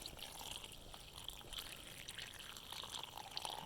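Water from a garden hose pours into a gopher burrow in a lawn, a faint, steady trickling splash close by that goes on without a break.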